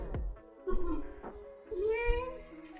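A house cat gives a few short meows, close by and fairly quiet, alternating with someone speaking casually in the foreground.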